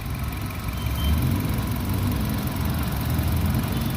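A 2014 Nissan Evalia ST engine idles smoothly and steadily up close, a low even hum with a soft vibrating rumble and no voices.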